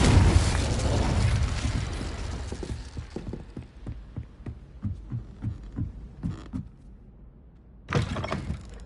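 The Incendio fire spell cast in Hogwarts Legacy, a loud whooshing burst of flame that fades into a string of rhythmic crackling pulses, then a second sharp flare near the end.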